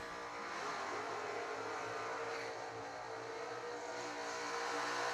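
Chevrolet Camaro drag racing car at a summer drag racing event, engine roaring at steady high revs with a broad, loud, sustained blare, heard from a distance without talk.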